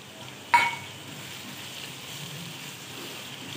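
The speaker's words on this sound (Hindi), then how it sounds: "अब थोड़ा सा ये हमारा अदरक लहसुन भुन जाए" Green chillies, ginger and garlic fry in a pan with a soft, steady sizzle, opening with a brief sharp clink of a utensil before the quiet frying carries on alone.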